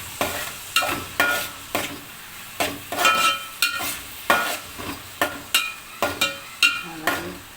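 Onions are sautéed for a beef roast, with rhythmic, fairly loud scraping strokes of a spoon against the pan over a soft sizzle, the stirring repeating at a quick, regular pace.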